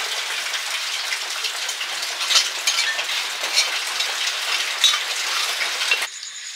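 Rain falls at night in a steady hiss of patter, with a few louder drop bursts along the way, then it cuts off abruptly near the end.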